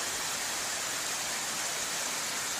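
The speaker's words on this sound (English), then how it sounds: "could hear more running water, so I came over here." A woodland stream runs near a hammock base camp, giving a steady, dense rush of flowing water at an even, fairly loud level with no breaks and no voices.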